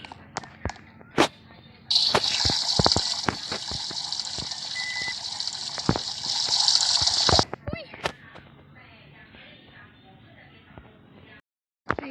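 A shower runs water in a steady, loud rush for about five seconds and then stops, with scattered thumps and knocks before and after it.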